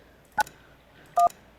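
Two short telephone keypad dialing tones in the Kentucky Route Zero video game, clear and separate, with quiet between the presses.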